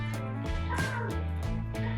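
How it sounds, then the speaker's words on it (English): A Blue Tick hound dog barks repeatedly nearby, several loud, sharp barks with yipping, whimpering edges at an uneven rhythm, close and clear without talk. "Don't mind my blue tip coming down, barking her head off."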